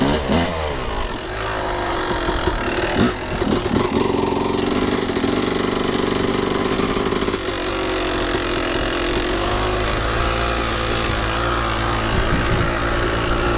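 A dirt bike fitted with a Rekluse automatic clutch runs steadily for the whole stretch, its engine idling and blipping with a few short revs near the start before settling into a continuous close, loud drone with no talking.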